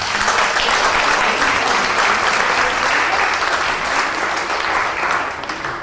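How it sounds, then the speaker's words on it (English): A crowd applauds continuously, dense clapping that stays loud and steady before easing slightly at the end. "Give a round of applause."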